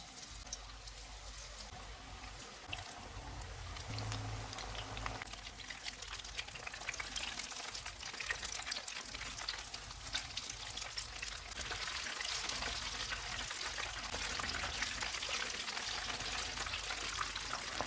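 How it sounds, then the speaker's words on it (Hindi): Sesame-coated chicken pakora pieces fry in hot oil over a medium-low flame, giving a steady, dense sizzle and crackle that grows louder over time; no talking. "चिकन का एक पीस लेंगे, सफ़ेद तिल लगा के फ्राई कर लेंगे।"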